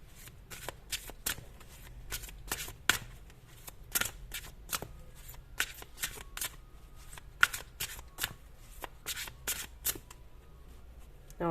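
Tarot cards shuffled by hand in rapid bursts of crisp riffling and flicking, close and quiet, repeating steadily throughout with a faint low background hum and no voices.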